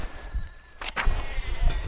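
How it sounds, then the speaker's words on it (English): In the video game Pentiment, a sheep lets out a short bleat against quiet ambient background noise. "There's sheep blocking that way"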